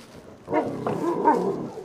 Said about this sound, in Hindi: बहुत ज़बरदस्त कुत्ता है ये।